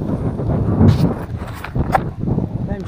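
Strong wind buffets the microphone during a road bike ride on a climb in Baguio, a loud rumbling gusty roar rising and falling throughout.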